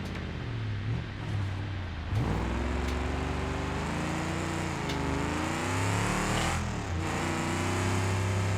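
A race car engine in a racing video game played on a Fanatec CSL DD Pro wheel, with a sustained engine drone that rises and falls through revs and gear changes, steady and prominent with no talk.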